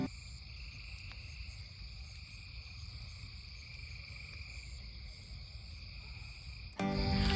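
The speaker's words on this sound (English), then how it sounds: "I'm gonna let you listen to just the frogs and the crickets and whatever else is out here." Frogs and crickets call at night on a farm, forming a steady, faint outdoor chorus of high insect trills over low croaking that continues unbroken, followed by a brief sharper noise at the very end.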